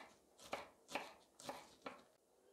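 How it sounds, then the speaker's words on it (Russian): A knife chops through green onion on a cutting board, four crisp evenly spaced thuds close up and fairly quiet, with no talk. "Нарезаем"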